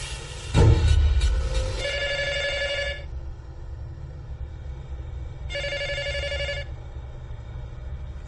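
An old-style telephone bell rings in two loud, buzzing bursts about a second long separated by a pause, preceded by a heavy thump, in a quiet room with no voices.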